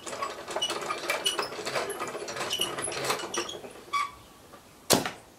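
Hand crank turned with a quick ratcheting, clicking mechanical rattle up close, followed by two sharp isolated knocks near the end.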